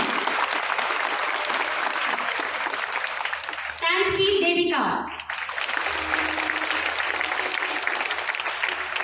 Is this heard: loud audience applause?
yes